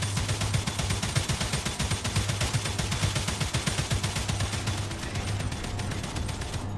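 Automated gun turrets in the video game StarRupture fire nonstop in fast, even rapid-fire bursts. The close, dense clatter runs without a break for several seconds with no talking.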